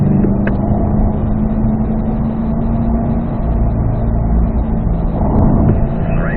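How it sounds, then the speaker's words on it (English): A C8 Corvette accelerating in fourth gear down a track straightaway, its engine a loud, steady, continuous drone close up inside the cockpit. "Now up to fourth gear. Let's accelerate down the straightaway."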